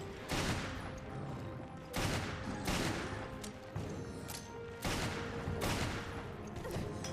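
Bursts of machine gun fire in Resident Evil Revelations Trench Raid mode, several loud rapid volleys separated by short gaps, with dense game ambience underneath.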